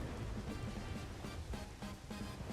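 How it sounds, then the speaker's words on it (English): Steady rainfall in the online role-playing game Black Desert Online, a constant broadband hiss of falling rain with low rumbling underneath, no talking. "it's raining."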